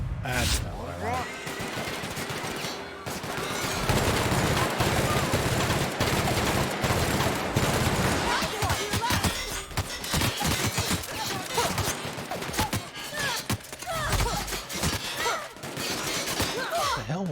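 Heavy, sustained gunfire in The Outer Worlds, a long barrage of rapid shots with crashing impacts running almost continuously and loudly.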